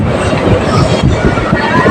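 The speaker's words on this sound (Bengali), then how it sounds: "পাতাল রেল" Metro train near Dum Dum Cantonment running along the track, a loud steady rumble with rhythmic wheel clatter and faint squeal heard from inside the carriage.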